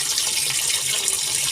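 Tap water runs steadily into a washing machine drum, a continuous close splashing gush with no voices over it.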